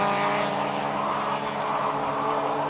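Touring cars in a 1987 British Touring Car Championship race roar past on track, a dense, continuous blend of several engines at high revs, loud and steady without any talking.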